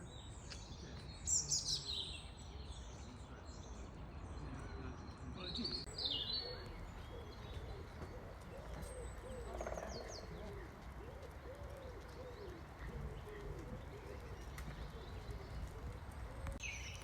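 Birds chirp and call outdoors in spring, including soft cooing, with scattered high tweets over a steady breezy background; a few calls stand out near the start.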